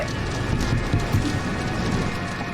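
Steady hiss of rain falling on a surface in the video game Doors, constant and even throughout with a few faint scattered thumps underneath.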